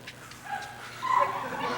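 A performer's voice imitates a dog, giving short whimpering and yipping sounds in a brief, close, fairly quiet burst.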